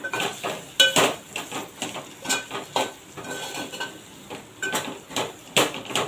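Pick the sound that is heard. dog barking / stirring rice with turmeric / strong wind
stirring rice with turmeric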